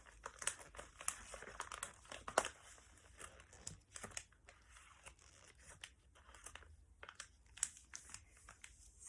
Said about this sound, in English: So just get into this last fold now.